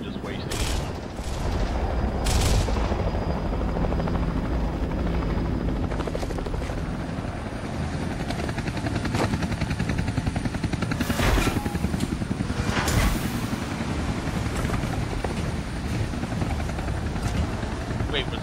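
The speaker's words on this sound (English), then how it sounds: "Is that our chopper that just landed?" Helicopter rotor and engine noise from the video game Gears of War fills the scene steadily and loudly as the chopper sets down, with bursts of gunfire-like impacts and people talking over it.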